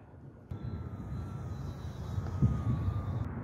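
A Scimitar RC model airplane cruises at half throttle on its maiden flight, its motor a steady, moderately loud drone with a faint high whine. No one speaks over it.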